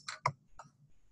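Computer keyboard keys clicked while entering a course registration number, a few quick close taps in an uneven rhythm.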